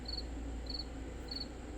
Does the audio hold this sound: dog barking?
no